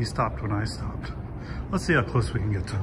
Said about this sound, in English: There's a bird there.